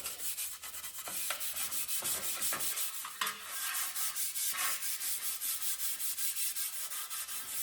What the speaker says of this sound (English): You don't want to rub real hard